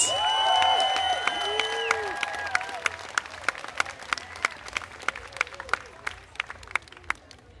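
An audience applauds and cheers for a comedy performer at a live show, starting with loud whoops and shouts over clapping, then thinning to scattered claps as it fades.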